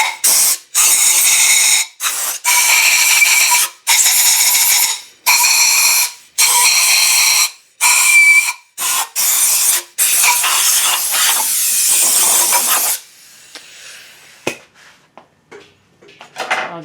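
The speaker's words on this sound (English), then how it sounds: "use some air compressor to blow out any residual oil and debris" An air compressor nozzle blasts residual oil and debris off a Subaru EJ engine block in loud, close bursts of hissing air, a dozen short blasts and then one long continuous blow, before fading to quiet workshop clinks.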